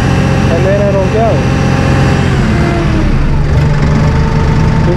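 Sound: Massey Ferguson hydrostatic tractor engine rolling downhill

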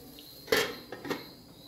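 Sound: lid being closed on a cooking pot

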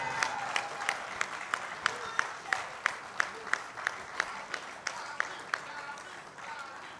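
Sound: audience applause at service of songs

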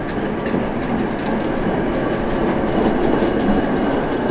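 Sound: train passing by in Bratislava

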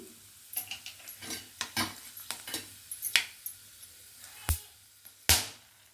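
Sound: whole spices (fennel, cinnamon, cloves, cardamom) frying in oil

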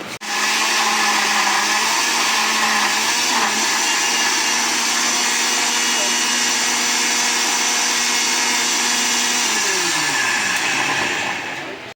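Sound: blender blending pineapple and sugar for pineapple punch

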